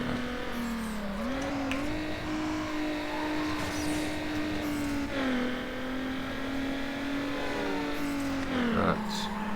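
A four-wheel-drive car in the Need for Speed Underground racing game gives a steady, droning engine tone that rises and dips as it accelerates and eases off through corners, loud and continuous throughout.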